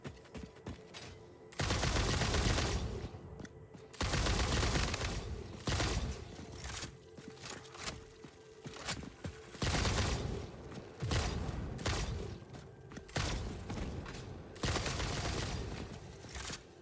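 A video game gun fires in repeated bursts of rapid shots, each lasting a second or two, with short pauses between them and faint mechanical clicks and scrapes in the gaps.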